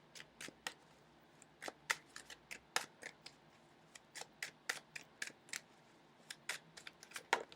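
Tarot cards being shuffled close by: a quiet series of crisp, irregular riffling snaps and flicks with short pauses between them.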